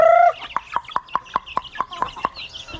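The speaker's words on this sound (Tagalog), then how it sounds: "Ayan ang mga sisiw." A hen gives a drawn-out call, then a steady series of about ten short, evenly spaced clucks nearby among her chicks, with no talking.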